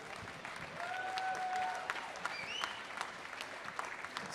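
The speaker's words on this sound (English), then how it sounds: "Hands again for Abdallah." Audience applause fills the hall after an under-13 squash final at the British Junior Open, a steady clapping wash with a few whistles rising through it, holding strong for a couple of seconds before easing.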